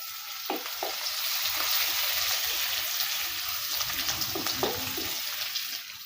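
Coriander sizzles in hot oil with turmeric and asafoetida, a steady frying hiss with a few soft stirring knocks and clinks against the pan.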